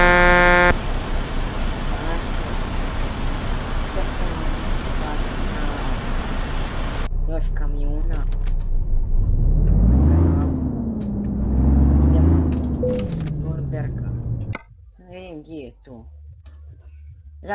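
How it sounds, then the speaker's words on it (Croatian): A MAN TGA truck in Euro Truck Simulator 2 drones with a steady engine and an air-brake hiss, then someone talks loudly over the game sound before it cuts to quieter, choppy bits. "Sada čujete sa kamion."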